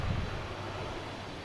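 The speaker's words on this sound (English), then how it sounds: "We got an American coming from Buffalo. E175, flight 4067." An American Embraer E175 regional jet on its arrival at Boston Logan from Buffalo, a steady broadband engine roar at moderate distance holding level throughout, with no other sounds standing out.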